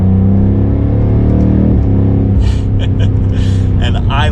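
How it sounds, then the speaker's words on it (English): A 2021 BMW M5 Competition's twin-turbo V8 in sport mode drones with a deep, steady low rumble from inside the cabin while someone talks over it. "We got a lot beefier tone now from the engine."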